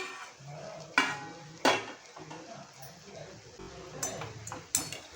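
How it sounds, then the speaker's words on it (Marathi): Dried prawn and brinjal curry gets stirred in a pan with scraping, shuffling sounds under a faint sizzle, punctuated by a few sharp spoon knocks against the metal rim. "व्यवस्थित आपण ढवळून घेऊया"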